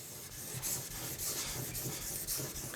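A Mora knife rasps over a 1000 grit whetstone in steady back-and-forth strokes, a close, even scraping rhythm with no talk.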